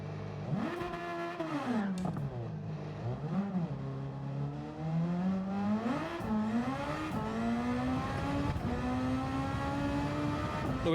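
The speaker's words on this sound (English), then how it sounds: "So we're revving fully now." A Super Formula open-wheel race car engine in a racing game revs hard and continuously, its pitch climbing and dipping through gear shifts before holding a steady high, rising drone down the straight.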